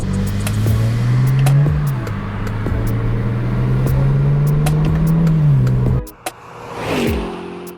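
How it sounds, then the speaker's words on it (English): A BMW 335i in sport manual mode accelerates through the gears, its engine note climbing loud and close with distinct shift breaks, then cutting abruptly to a quieter rumble near the end. "we put it into sports manual mode. We're on first gear right now."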